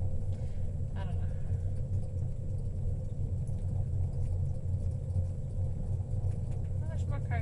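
Cars at the Banff Gondola lower terminal produce a steady low rumble of idling and passing vehicles, continuous and moderately loud, with people talking nearby over it.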